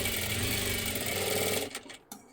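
Sewing machine stitching along a folded fabric edge while making a trendy sleeve, a steady fast whirring hum that runs continuously, then stops near the end with a few short mechanical clicks.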